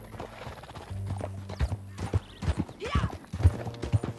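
Horse galloping in the video game Red Dead Redemption 2, rapid clip-clop hoofbeats with a whinny and snorting, close and prominent, with a brief shout over it.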